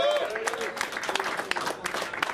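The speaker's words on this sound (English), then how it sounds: "We get a round of applause for Georgette who organized this." Scattered applause from a modest audience at a software company conference, uneven clapping with a few voices mixed in, moderately loud and brief.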